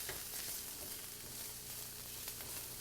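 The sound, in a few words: food caramelizing while frying in a pan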